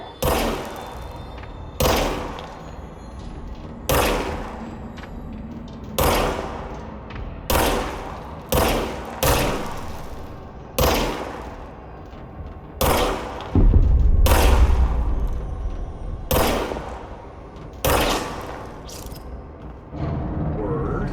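Gunfire in the video game Control rings out as a series of about a dozen sharp, loud shots at uneven intervals, with one deeper rumbling blast midway and quiet room tone between shots.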